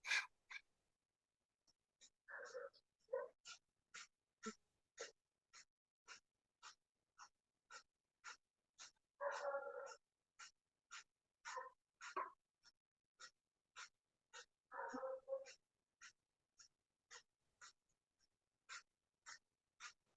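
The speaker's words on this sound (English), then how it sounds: "And let's move into kapalbati breathing." Kapalbhati breathing in a yoga session: a long steady train of rapid, forceful nasal exhales, about one each second, sharp and evenly paced, with a few longer breaths in between and no talking.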